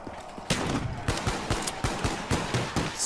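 M14 rifle emptying its magazine in Call of Duty Black Ops 3 Zombies, a steady string of about eight loud, sharp semi-auto shots spaced roughly a third of a second apart, standing out clearly from the game's background.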